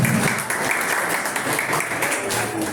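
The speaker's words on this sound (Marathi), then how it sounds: "गोपीचंद सुरेश मावशीसाठी जोरदार टाळ्या वाजवा मित्रांनो" Audience at a school annual gathering and prize-giving clapping hard for a prize winner, a thick sustained burst of applause close by, with faint voices mixed into the crowd.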